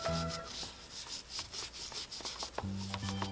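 Rubbing and scrubbing of a child's soapy head and hair during a bath, a steady close-up friction sound that swells and fades in short strokes, with a faint tonal background hum.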